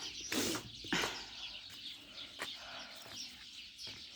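Chickens cluck softly in the background, a few short calls standing out against a faint, steady outdoor hiss.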